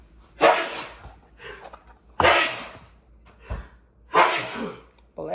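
Three sharp sneezes burst out at close range, each a loud, abrupt blast separated by brief quiet pauses, with soft sounds in between.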